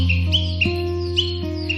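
A small bird squawks in short, bright, repeated calls, several in quick succession, over steady sustained musical tones.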